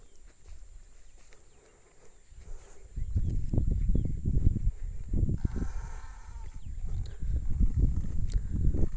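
A pair of bullocks pulls a weeding hoe through a cotton field overgrown with weeds, producing a continuous rough scraping and rustling of soil and plants that swells loud and close after a quieter opening.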